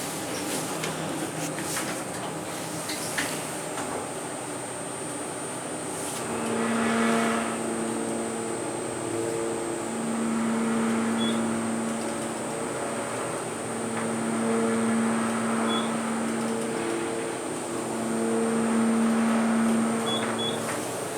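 Ride in an Abell hydraulic elevator at the Hilton Garden Inn in Merrillville, Indiana, with a low steady motor hum, faint cab rumble and a few soft high chimes alone.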